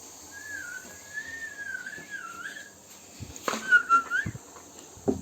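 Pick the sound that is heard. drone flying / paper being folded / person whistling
person whistling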